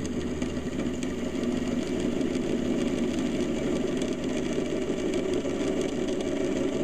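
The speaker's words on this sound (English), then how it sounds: "I will just turn the lathe on, and I'm going to present it to the wood." A wood lathe runs with a constant mid-pitched motor hum while a spiralling tool is presented to the turning wood, producing a steady whir with faint scraping ticks and no talking.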